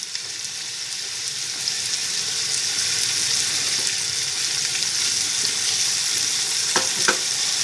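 Chunks of lamb browning in a hot pan for a ragù give off a steady, loud sizzle and crackle that holds evenly throughout, with no voices.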